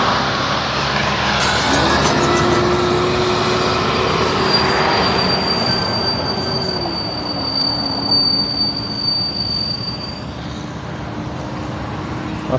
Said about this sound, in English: Lots of squeaky brakes today.